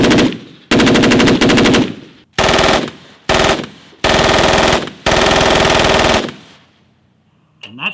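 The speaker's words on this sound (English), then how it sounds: "This is the 1918 A2 Browning automatic rifle, more affectionately known as the BAR." A 1918 A2 Browning automatic rifle fires at a WWII reenactment. Several loud, close bursts of rapid automatic fire are split by short pauses, each with a sharp rattling cadence and echo tails.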